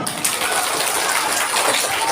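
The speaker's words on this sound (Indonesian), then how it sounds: "Kasih tepuk tangan" Applause from an audience at an Isra' Mi'raj commemoration gathering, a steady dense wash of many hands clapping throughout, fairly loud and continuous with faint voices mixed in.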